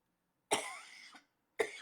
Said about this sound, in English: so I'm fighting a cough from it.